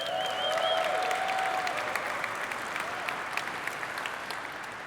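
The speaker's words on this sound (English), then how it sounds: "round of applause for YC" Keynote audience applause in a large event space, sustained dense clapping from a crowd that holds steady and then slowly tapers off, with a faint voice early on.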